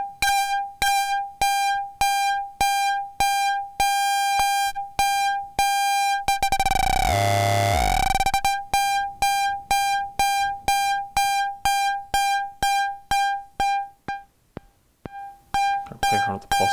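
A synthesizer filter rings in self-resonance through vacuum tube distortion at high gain, giving a loud pitched tone pulsed in a fast rhythmic train with a brief swept burst partway through, and no voices.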